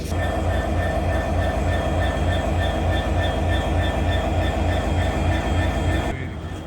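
Train at a railway station platform in Bangladesh, heard as a loud, steady rumble with a low mechanical drone and faint high tones, running continuously and then dropping off abruptly near the end.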